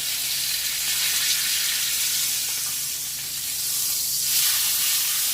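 A holiday brisket sears in a hot pan, giving a steady, close, bright sizzle with a soft hiss of steam that dips briefly midway before swelling again.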